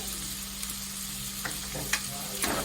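Chopped onion goes into a pan along with chickpeas and greens, giving a soft, steady sizzle of frying with occasional stirring scrapes and taps, all fairly faint.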